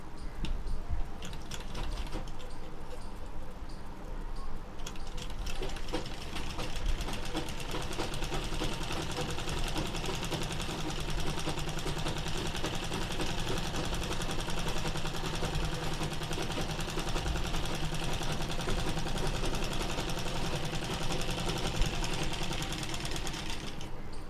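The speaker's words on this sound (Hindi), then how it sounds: "इस तरीके से रखनी है किनारी पे और फिर मशीन चला देनी है बस।" A sewing machine stitches lace onto the edge of a small dress for a Ganesh idol, running with a steady, fast mechanical chatter for the whole stretch, close and alone, with no talking.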